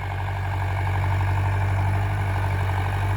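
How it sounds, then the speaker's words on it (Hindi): A Mahindra Arjun 605 tractor fitted with a Shaktiman rotavator idles steadily nearby, its low diesel rumble constant and unbroken throughout, with no voices. "भाइयों ये है अर्जुन 605 ट्रैक्टर।"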